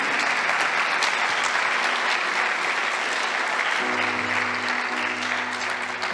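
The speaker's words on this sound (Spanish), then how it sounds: "dale un aplauso al Señor de gratitud" A church congregation claps in gratitude during a Sunday service, a dense, sustained round of applause that fills the room at even loudness throughout, with a faint tonal hum entering underneath near the end.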